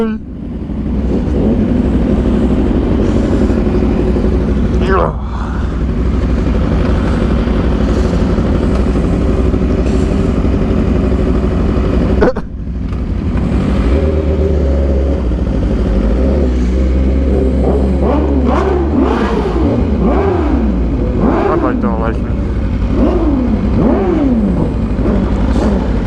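A Suzuki Gixxer motorcycle engine runs loud and close, holding a steady roar that later rises and falls through repeated revs, with talk over the top.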